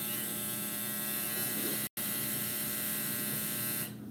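A clothes dryer runs steadily in the background as a constant buzzing hum, cut off by one brief silent dropout midway, then fading toward the end.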